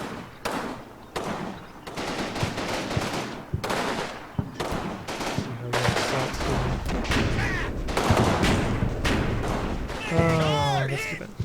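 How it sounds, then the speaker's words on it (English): Machine gun fire in Combat Mission: Fortress Italy, long rattling bursts and distant rumbling battle noise continuing throughout, with someone speaking over the gunfire. "Machine gun."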